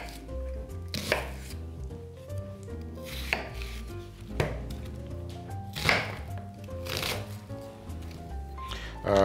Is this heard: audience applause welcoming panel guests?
no